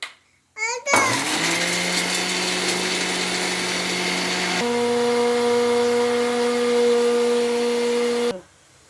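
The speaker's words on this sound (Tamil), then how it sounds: "அதை நல்லா அரைக்கலாம்" A loud mixer grinder whirs steadily for several seconds grinding roasted masala, its motor pitch shifting partway through before it cuts off abruptly.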